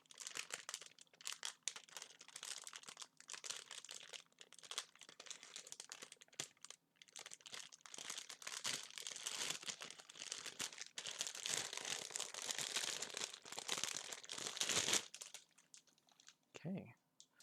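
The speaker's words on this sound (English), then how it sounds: "now that all of the runners have been pulled out of the plastic bag" Gunpla plastic runners being pulled out of a crinkling plastic bag, with dense, close rustling and crackling that runs almost the whole time and stops near the end, where a short voice is heard.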